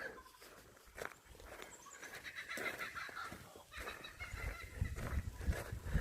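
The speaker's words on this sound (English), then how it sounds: "Kookaburra thinks I'm funny for some reason." A kookaburra calls in the Australian bush with a raucous, rising and falling cackling chorus of repeated harsh notes, moderately near and continuous.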